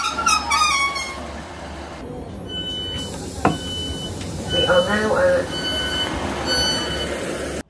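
A Transport for Wales passenger train at a small station platform between Bridgend and Cardiff, with rumbling rail noise, a short toot and high squealing tones over a steady low hum, as voices carry faintly around the platform.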